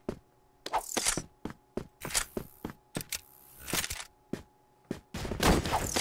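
Sharp CrossFire gunshots crack out in irregular single shots and short bursts, separated by brief quiet gaps, with a longer rattling volley near the end.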